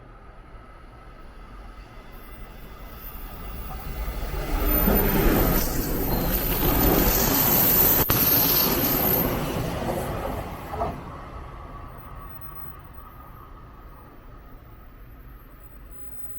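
A train passes through a station on Japan's Chūō Main Line at speed, swelling to a loud roar for several seconds and fading away, with a brief squeal and background hiss.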